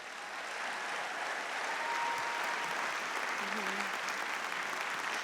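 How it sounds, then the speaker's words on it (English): Audience at a school all-county chorus concert applauds the chorus teachers, a steady wash of clapping that builds and holds for several seconds in a large hall. "Can we give a round of applause to their teachers?"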